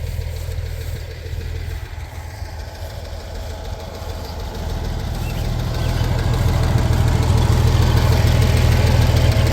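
A tractor fitted with pallet forks idles with a loud, low, steady rumble close by, then the throttle comes up and the engine note rises and grows louder toward the end. No voices are heard.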